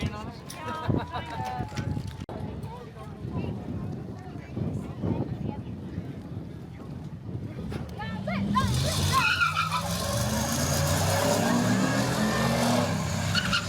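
A drag race car launching down the strip at Alien City Dragway, its engine rising into a loud sustained roar for the last several seconds after a stretch of quieter idling and background talk.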